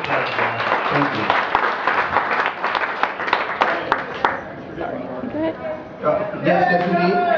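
Convention audience at closing ceremonies applauding the staff, a burst of dense clapping with sharp individual claps that fades after a few seconds into someone speaking over the room.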